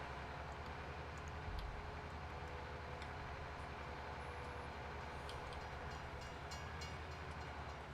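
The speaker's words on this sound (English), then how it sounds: "That train is starting to really bother me a lot." A train in Farming Simulator 19 rumbles steadily with a low continuous roar and faint clacking, constant throughout at a moderate distance.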